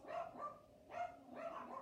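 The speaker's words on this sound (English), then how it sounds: "the dogs are barking at squirrels." Dogs bark faintly in the distance at squirrels, a few muffled woofs in an irregular pattern.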